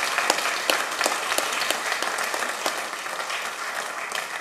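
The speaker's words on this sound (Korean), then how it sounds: "우리 어제 임직 받은 분들은 위에서 한번 박수로 크게 한번 격려하겠습니다" A church congregation applauds newly ordained officers with loud, full clapping from many hands, a dense, continuous burst with a few sharper slaps standing out, and no talking.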